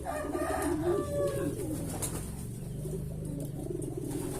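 Low, soft cooing of a pedigree pigeon rises and falls against a steady background hum, fairly close, with no voices.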